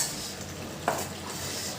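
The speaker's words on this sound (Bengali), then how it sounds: "শাকটা ভালো করে কষানো হয়ে গেছে, এখন মাছগুলো দিয়ে দেবো।" Pre-fried fish heads and tails go into a pan of greens that have been sautéed down. A soft, steady sizzle runs throughout, with a single sharp clink of a utensil against the pan partway through.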